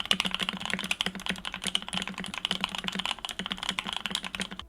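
Close, steady typing on a mechanical keyboard with Creamy switches and an acrylic bottom, a dense rapid stream of soft, creamy clacks with occasional heavier keystrokes, heard alone.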